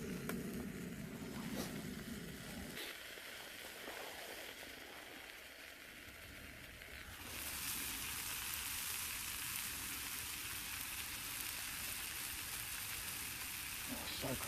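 English breakfast frying on a Trangia camping stove at a campsite, a steady close sizzle that swells louder partway through and keeps going, with faint talk at times.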